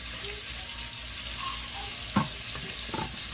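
Shrimp cooking in a one-pot meal with cabbage, sausage and peppers, a quiet continuous sizzle with a couple of utensil clinks near the end, no voices.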